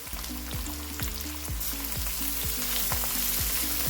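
A ground spice paste for capsicum chitranna fries in a pan with a constant hiss and sizzle, broken by regular scraping strokes and a repeating tonal pattern underneath.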